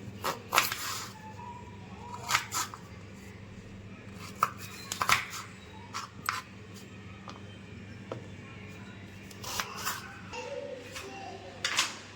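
Indian gooseberries (amla) are chopped for juice, with sharp knife strikes on a board coming in irregular small bursts over a quiet, low hum.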